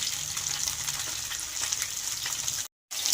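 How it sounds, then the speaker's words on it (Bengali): Katla fish pieces frying in oil in a pan, a steady bright sizzle and crackle that continues evenly, then briefly cuts out near the end. "মাছগুলো তাহলে ভাজা হোক আস্তে আস্তে মাছটা ভাজা হতে থাকুক"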